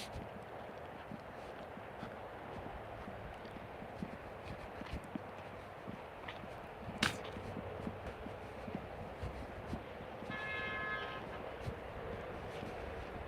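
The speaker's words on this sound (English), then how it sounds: "I'm hearing somebody honking on the 101." A car horn honks once somewhere along the 101 highway, a distant, sustained tone lasting about a second over a steady wash of background traffic and street noise.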